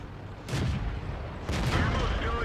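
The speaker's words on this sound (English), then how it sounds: "And here is the Excelsior firing on the move." Excelsior, a Tier 5 British heavy tank in World of Tanks, fires its main gun while on the move: two heavy booming shots about a second apart, each a loud broadband blast with a rumbling tail over continuous battle noise.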